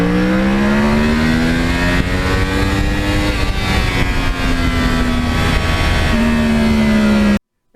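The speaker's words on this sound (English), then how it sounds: "Somewhere down inside that fairing there was the cross-plane engine" A 2009 Yamaha R1 with a cross-plane engine revs loudly and steadily nearby, its pitch climbing and falling in long sweeps, with no voices over it.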